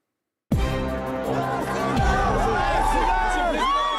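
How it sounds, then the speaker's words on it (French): A jubilant crowd in Timbuktu, Mali, welcoming French president François Hollande, its loud cheering and chanting swelling into a dense roar after a brief silence. "François Hollande, son nom est scandé par une foule en liesse."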